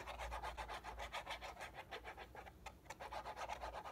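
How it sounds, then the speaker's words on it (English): A finger rubs Tombow Mono Aqua liquid glue across the spine of a hardcover fabric-covered journal, producing a soft, close, rhythmic scraping that repeats steadily without pause. "I like to take a finger and then rub this in so that it's all completely smooth all the way across"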